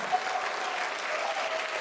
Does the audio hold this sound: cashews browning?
no